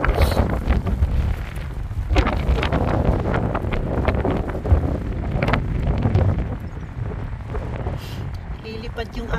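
Strong gusting wind buffets the microphone during rain and flooding beside a river, a loud continuous roar with rumbling surges throughout.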